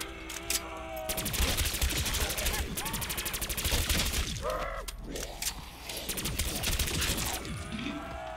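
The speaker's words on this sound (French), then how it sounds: "tu tires n'importe où et t'arrives à faire des têtes" Rapid bursts of gunfire from a weapon in Black Ops 3 Zombies on the Ascension map rattle out in repeated volleys, mixed with zombie groans, swooping game effects and shattering sounds, fairly loud and dense throughout.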